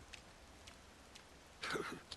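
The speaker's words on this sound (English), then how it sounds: "And it's raining still." Faint rain falls in the crime action video game Yakuza Kiwami, a soft steady patter with scattered drops and a slightly louder swell near the end. No one speaks.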